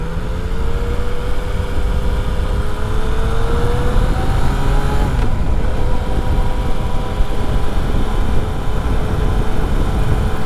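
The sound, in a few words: Yamaha XSR 900 motorcycle engine riding during break-in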